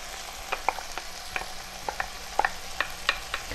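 Frozen carrots, green beans, peas and corn stirred into browning ground beef for shepherd's pie, a steady low sizzle broken by repeated sharp clicks and scrapes of a utensil against the pan.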